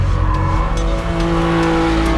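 A Porsche 911 Carrera S with a 400-horsepower flat-six mounted at the rear, racing on a track, holding a loud steady engine howl with tire noise and no talking.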